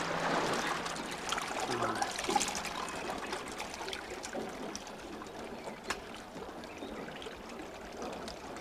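Fresh water trickles through a tangle of small streams in Amapá, a faint, steady outdoor babble with occasional soft splashes and no voices.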